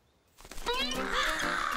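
A cartoon crow caws in a Max & Ruby episode, a single loud, close, drawn-out raspy call that swells in after a brief quiet start and holds to the end.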